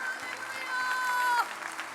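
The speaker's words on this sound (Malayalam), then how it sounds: "കൈകൾ അടിച്ചു ദൈവത്തിന് നന്ദി പറഞ്ഞേ" Audience hands clapping together at a Christian sermon gathering, a steady spatter of applause lasting the whole stretch, with sustained musical tones ringing underneath.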